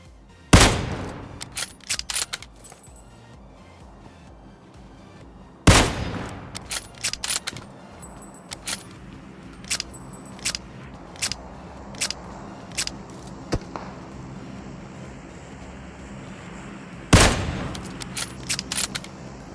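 Gunfire in PUBG Mobile: several loud, sharp shots and short bursts spread irregularly over about twenty seconds, with quieter in-game clatter and background sound between them and no talking.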